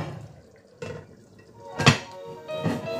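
A cooking pot is covered with its lid while a fumbwa with smoked fish simmers over low heat: a few light metallic clanks and a sharper clatter near the middle, close and fairly quiet against a faint kitchen background.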